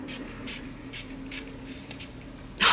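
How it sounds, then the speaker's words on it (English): Several short hissing bursts of setting spray misted onto a face during a makeup routine, repeated in a steady rhythm at close range, with a louder final burst at the end. "So let's just go ahead and spray this."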